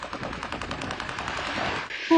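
Air defense guns fire in one sustained burst of rapid, evenly spaced shots that roll on continuously at moderate distance, followed by a brief shrill tone at the end.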